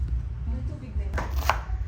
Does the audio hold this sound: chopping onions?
yes